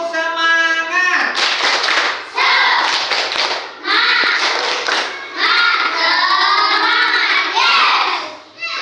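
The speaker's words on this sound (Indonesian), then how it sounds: "Tepuk semangat." Third-grade schoolchildren in a primary school classroom perform a rhythmic spirit clap, brisk patterned hand claps with voices chanting along, loud and close, in several bursts with short pauses.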